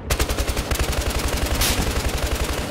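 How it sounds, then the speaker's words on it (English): Rapid, evenly spaced gunshots from a fast-firing weapon in the Battlefield Hardline shooter crack in a steady loud burst lasting a few seconds, with no talking. "Oh my god, dude, I'm being sniped!"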